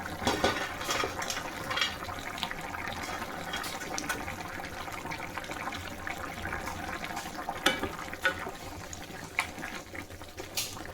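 Dried lentil dumplings simmer in a bubbling tomato curry, giving a steady wet burble of boiling liquid with occasional sharper splashes and pops, close and continuous with no voices.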